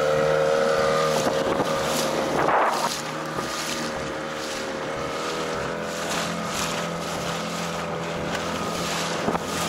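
A motorboat approaching the shore after sea fishing for cod off Germany hums with a steady engine drone that eases down after a few seconds, under strong wind buffeting the microphone and faint water sounds.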